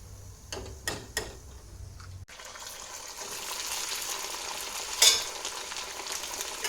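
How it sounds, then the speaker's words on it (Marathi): Food deep frying in oil in a pan, a few spoon taps at first, then a steady close bubbling sizzle that swells briefly as hot oil is ladled over the top. "आणि हे फ्राय करताना ना वरनं असं तेल टाकायचं झाऱ्याने"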